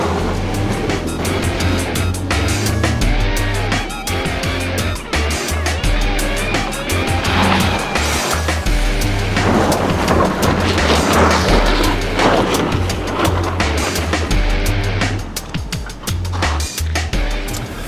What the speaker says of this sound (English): See, I'll floor it, and the front wheels should spin, and then once they start spinning, the rear wheels kick in.